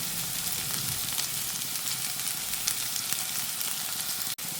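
Thinly sliced onions fry in hot oil in a pan for an onion masala. A constant soft sizzle and crackle fill the stretch, fairly quiet and with no voices.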